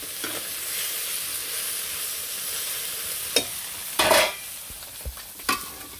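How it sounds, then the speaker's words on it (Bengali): Curry being sautéed and stirred in a pan in a home kitchen, with a steady close sizzle of frying and several sharp scrapes and clatters of the spoon against the pan. "এদিকে তরকারিটা কষানো হয়েছে"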